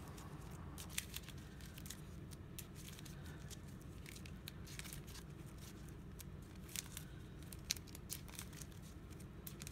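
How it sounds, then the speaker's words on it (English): Game cards from a Villainous deck being shuffled, giving a steady run of soft papery riffling and flicking for the whole stretch, close and fairly quiet, with no voices. "So let's shuffle that."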